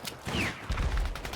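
Gunfire in the video game Battlefield 6: a quick burst of shots and sharp cracks over a low rumble, moderately loud in the game mix.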